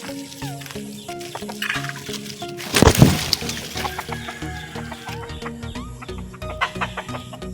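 An injured pet chicken that still cannot fly gives a string of short clucks close by, with a louder rustling burst partway through and quiet background noise around the calls.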